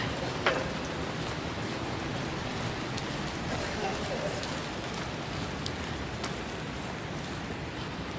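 Steady rain falls on a Times Square street at night with a dense, even hiss and scattered louder drop ticks. It is moderately quiet and continuous.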